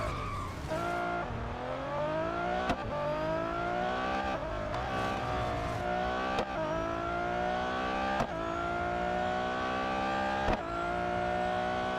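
Race car engine in the mobile game Real Racing 3, droning steadily at high revs with rising pitch sweeps and sharp breaks at gear changes, loud and continuous with tyre scrub, no talking.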